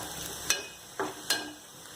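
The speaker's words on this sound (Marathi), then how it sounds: "ब्राऊन होईपर्यंत आपण आता ही भाजायची आहे." Bombil (Bombay duck) fish pieces fry in a pan until brown, with a steady faint sizzle and three brief sharp scrapes or stirs spaced across two seconds, heard alone without talk.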